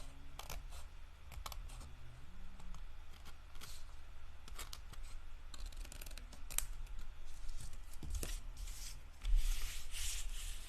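Scissors cutting through paper card, a few short snips and rubbing scrapes at close range, quiet and intermittent with no talking.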